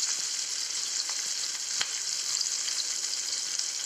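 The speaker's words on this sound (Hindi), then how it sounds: "प्याज है वो ऐड करेंगे अभी इसमें, और जो 1 चम्मच हमने जिंजर गार्लिक पेस्ट लिया है वो भी मैं डालती हूँ।" Onion and ginger garlic paste fry in a pan with a steady, bright sizzle, a few soft stirring taps breaking through, close and alone without speech.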